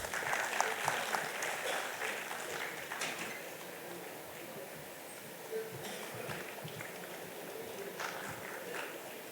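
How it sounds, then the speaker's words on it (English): Applause from a convention audience continues, steady clapping at moderate volume that thins slightly midway, then swells again near the end. "Can we have the applause coming, please?"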